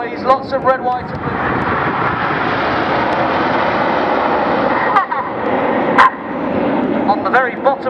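Aircraft flying in formation over the Western Air Festival 2017 air show make a loud, continuous engine roar that fills the whole stretch, with a commentator talking over it throughout.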